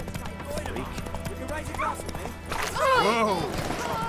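Hooves of the horse Roach in The Witcher 3 clop steadily at a gallop, loud and close. A voice speaks and a whinny sounds over the rhythm.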